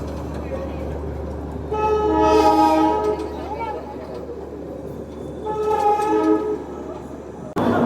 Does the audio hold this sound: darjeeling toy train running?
yes